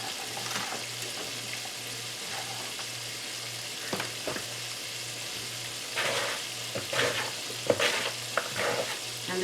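Floured shrimp frying in hot oil, a steady close sizzle and crackle running throughout with a low hum underneath and occasional louder bursts of spatter, no voices.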